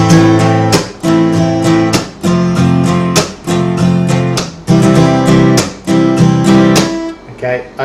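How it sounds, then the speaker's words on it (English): Acoustic guitar strumming the chords of a song with a steady rhythm, punctuated by sharp palm-muted chucks between the ringing chords, close and loud. "So it's that muted strum."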